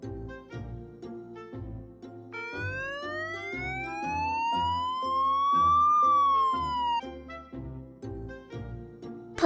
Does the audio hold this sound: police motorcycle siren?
yes